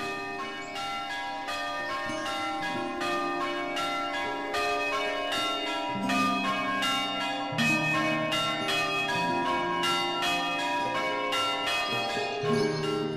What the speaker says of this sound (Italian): È domenica e qui, nei giorni di festa, le campane non mancano mai di suonare.